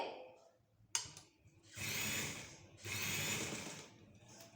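Sewing machine stitching the corners of a dupatta, with a sharp click, then two sustained runs of fast rhythmic stitching, close and clear, separated by a short pause.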